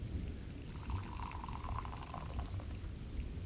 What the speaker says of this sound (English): I pour myself another cup anyway